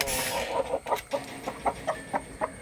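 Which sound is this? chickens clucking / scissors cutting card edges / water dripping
chickens clucking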